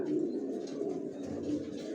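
Racing pigeons in a loft keep up a continuous low cooing murmur, close and soft, with no other sounds.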